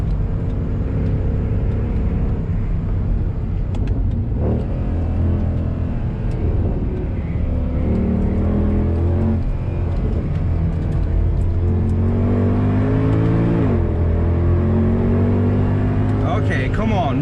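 A Mercedes W204 C63 laps the Nordschleife, its engine droning and revving through gear changes from inside the cabin, loud and continuous with rising pitch sweeps as the car accelerates, while a person talks over it.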